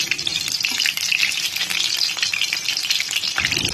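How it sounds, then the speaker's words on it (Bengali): Shapla (water lily) stem chops fry slowly in oil over medium heat, making a dense, continuous crackling sizzle close up with no talking. "মিডিয়াম আছে আস্তে আস্তে ভেজে নেব।"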